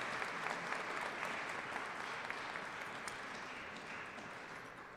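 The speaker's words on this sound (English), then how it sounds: "Please join me in a round of applause." An audience at a Vaisakhi ceremony breaks into a sustained round of applause, dense steady clapping from a crowd heard from a moderate distance, fading slightly toward the end.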